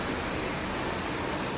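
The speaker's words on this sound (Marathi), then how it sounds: "तर पाऊस बघा किती येतोय" Heavy monsoon rain pours down as a dense, continuous roar of broadband noise, loud and close, with no voices over it.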